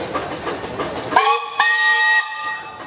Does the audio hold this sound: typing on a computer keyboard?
no